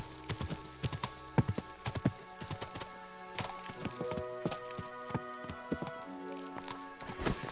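Horse hooves clip-clop steadily in Kingdom Come: Deliverance 2, a brisk run of sharp, close hoofbeats on rough ground that continues throughout with no talk.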